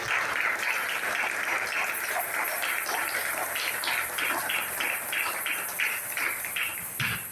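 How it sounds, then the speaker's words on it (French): A church congregation applauds and cheers for the Lord, dense sustained clapping throughout with crowd voices underneath. "Nous acclamons très fort le Seigneur."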